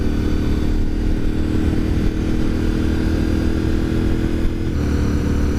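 A Honda VTR 1000 SP1 V-twin motorcycle being ridden, its engine a loud, steady, close drone that holds level throughout with no talking over it.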